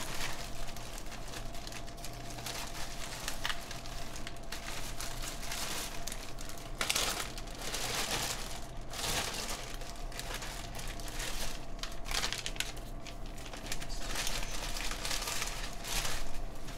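Keycaps from a Norbauer Heavy Grail keyboard build dropped into a plastic bag, making steady crinkling and rustling with a few louder crackling bursts throughout, close by and with no talking.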